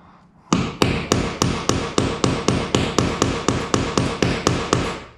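Steady series of about fifteen sharp, evenly spaced hammer blows on a punch, driving a hole through material for a cheap survival shelter, loud and close with no talking.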